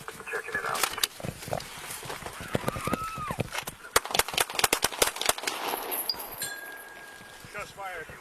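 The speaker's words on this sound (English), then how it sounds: "Shots fired." Gunshots fired during a police encounter, a rapid run of sharp, loud cracks mixed with shouting voices and a wailing siren nearby.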